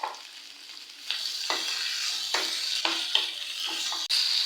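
Cut tomatoes added to hot oil for a Tamil-style brinjal curry sizzle steadily while a spoon stirs them, with several distinct scraping strokes against the pan over a constant frying hiss.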